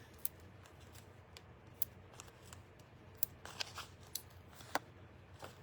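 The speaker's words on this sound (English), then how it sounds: "Let's just cut some more of those edge pieces." Scissors snipping paper edge pieces for a Christmas card, a series of sharp, faint close-up cuts at irregular intervals over quiet room tone.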